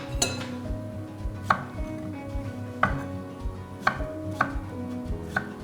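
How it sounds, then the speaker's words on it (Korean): A knife slices crunchy Korean pickled cucumbers (oiji) on a cutting board, giving regular, close, crisp chopping knocks about once a second. "썰 때 그냥 여러 용도로 한번 썰어놔요"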